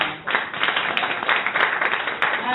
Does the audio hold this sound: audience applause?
yes